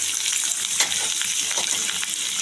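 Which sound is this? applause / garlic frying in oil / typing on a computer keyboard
garlic frying in oil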